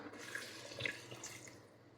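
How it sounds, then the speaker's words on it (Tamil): Water poured into a pressure cooker, a soft, faint splashing and trickling stream heard close up for a couple of seconds, with no talking. "இப்போ இதில் தண்ணி சேர்த்துடலாம்."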